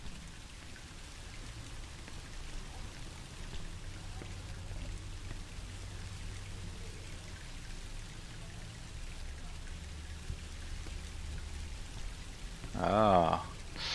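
Steady rain from the video game Song of Horror patters and hisses evenly through a grate, with a brief louder burst of sound near the end; no voices.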